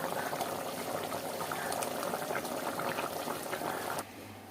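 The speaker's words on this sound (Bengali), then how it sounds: "চিকেন তো রান্না হচ্ছে" Chicken for biryani simmers in a pot with a steady, dense bubbling burble that stays level until it drops abruptly near the end.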